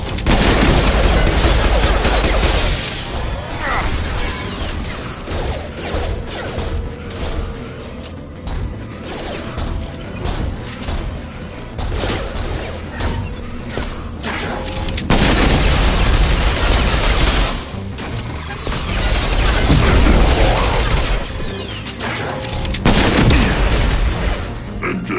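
Loud, dense gunfire and booming explosions from combat in the Mass Effect 2 video game on PS4, rapid bursts and whooshes running continuously with heavy low-end blasts and no speech.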